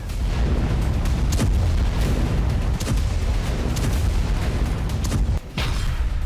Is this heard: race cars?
no